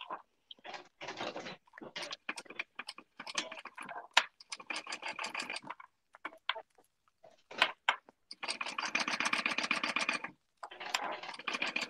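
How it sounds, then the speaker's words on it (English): A sewing machine stitches down a strap of thick vinyl in short rattling bursts with brief pauses between runs, close and fairly quiet, with almost no talking. "I am going to stitch down both sides of this strap"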